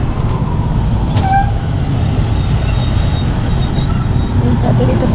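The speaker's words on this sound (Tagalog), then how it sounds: "Grabe ang traffic." Heavy road traffic with buses and cars rumbles steadily in a busy Philippine street, a continuous low engine drone with passing vehicles and a faint horn, while people talk nearby.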